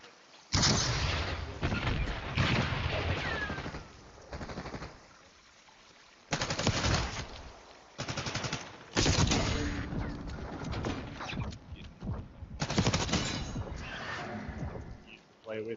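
Gunfire in the Call of Duty video game, rapid bursts of automatic shots and blasts that come and go in loud stretches, with people talking between them.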